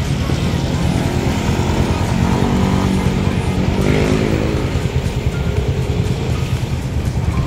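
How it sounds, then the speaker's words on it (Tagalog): Steady road traffic on Roxas Boulevard in Manila, a continuous dense rumble of cars and motorcycles with engine drone filling the scene throughout, no clear voices. "Ayan ang traffic sa Rojas Boulevard"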